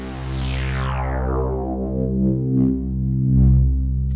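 A deep analog synth bass note sounds once with a bright filter sweep that closes down, then sustains as a steady low, slightly throbbing tone.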